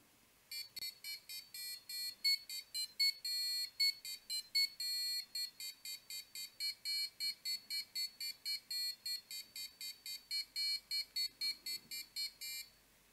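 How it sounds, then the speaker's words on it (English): A passive buzzer driven by an Arduino plays a melody of rapid, evenly spaced shrill electronic tones, one note after another for the whole stretch, fairly quiet and alone. "this is now the goal of our melody, of our passive buzzer"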